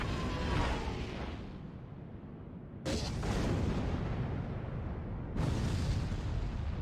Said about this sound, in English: a goddamn laser cannon from the sky